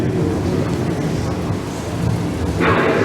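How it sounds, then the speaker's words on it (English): Thunderstorm with rolling thunder and steady heavy rain, a loud, continuous broadband roar throughout with a brighter surge of rain or wind near the end. "The approaching storm may seem violent and destructive to us, but to nature, it's a new beginning of the cycle of life."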